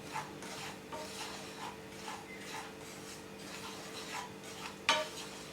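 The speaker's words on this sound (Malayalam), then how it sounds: "റവ വറുക്കാൻ തുടങ്ങിയിട്ട് ഒരു 4 മിനിറ്റ് എല്ലാം കഴിഞ്ഞിട്ടുണ്ട്." Semolina dry-roasting in a pan for upma, stirred in rhythmic gritty scraping strokes about twice a second, quiet and close, with a sharper clink near the end and no talking.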